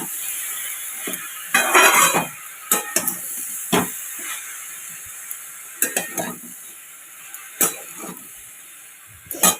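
A Bengali home-style curry is pressed and stirred in a pan over a low sizzle, with repeated scraping strokes and clinks of a spatula against metal coming in irregular bursts, close and unaccompanied by speech.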